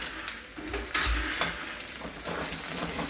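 Two chicken leg pieces sizzle and crackle steadily in hot oil in a pan, with a few light stirring scrapes, close and moderately quiet, no talking.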